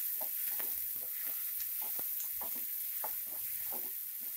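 Chopped onion fries in a pan until lightly browned for a prawns fry, with quiet sizzling and repeated soft scrapes of stirring at a moderate pace.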